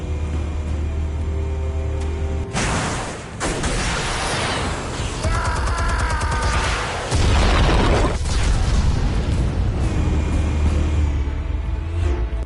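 Explosives detonating in a Batman video game, a string of loud booming blasts with rumbling debris that recur across the stretch, each one alone over a continuous low game ambience.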